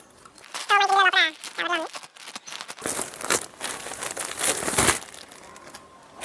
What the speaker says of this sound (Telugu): ఓపెన్ చేద్దాం మింత్రా ప్యాకింగ్ చాలా బాగుంటుంది పేపర్తో చాలా ప్రీమియంగా